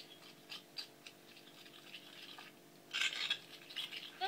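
Egg mixture with grated carrot stirred in a bowl, light scraping and clinking taps scattered throughout, growing busier and louder near the end.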